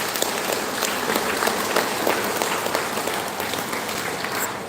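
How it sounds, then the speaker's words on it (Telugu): An audience at a meditation talk breaks into firm, sustained applause, a dense even clatter of many hands lasting several seconds without speech. "ఒకసారి గట్టిగా క్లాప్స్ పెట్టండి"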